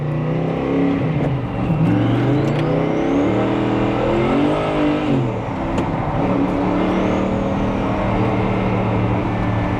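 A rare Mosler sports car with a twin-turbo LS7 V8 drones steadily from inside the cabin, its engine note rising and falling through gear changes over a continuous rush of road noise, loud and close with no talking.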